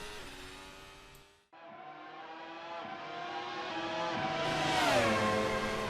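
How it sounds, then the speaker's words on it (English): Ferrari Formula 1 cars racing in the Assetto Corsa video game, engines revving hard with rising pitch as they power over the start-finish line into a sharp corner, a brief gear-change dip then sustained loud whine, alone without talk. "both cars over the start finish line, powering into this first sharp corner"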